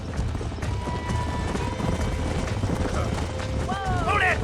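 Galloping horses in the Western video game Red Dead Redemption, clip-clop hoofbeats running steadily under a dense music and ambience bed, with a brief whinny-like cry near the end.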